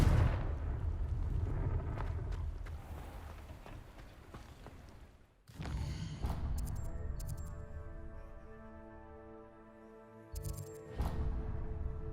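Loud crackling blasts of a Confringo fire spell burst in the Hogwarts Legacy game, a dense roar of impacts followed by ringing magical tones and a second sharp burst near the end.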